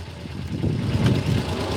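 A motorcycle engine turns over and settles into a steady, loud, low idle close by, the rumble rising slightly after a moment with no talking.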